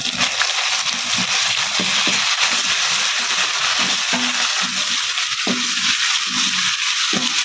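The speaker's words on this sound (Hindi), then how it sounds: "अब इसमें मैं अदरक लहसुन का पेस्ट डालने लगी।" Ginger garlic paste fries with browned onions in a pan, a constant loud sizzle with intermittent stirring clacks and scrapes.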